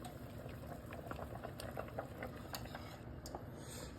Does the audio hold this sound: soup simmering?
yes